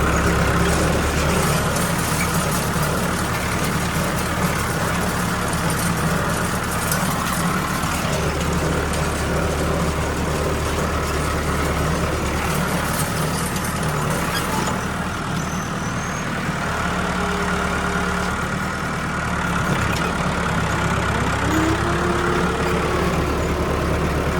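Tractor engine running steadily near a farm field with a deep continuous rumble, loud and close, with no voices.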